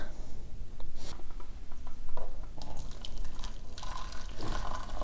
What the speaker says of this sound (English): drop it into the cup and pour water in over top of it